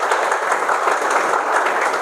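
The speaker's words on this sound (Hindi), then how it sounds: "तो ताली तो बजा दो।" Loud, dense clapping from an audience at an indoor health awareness session, a continuous close wash of many hands applauding steadily without pause.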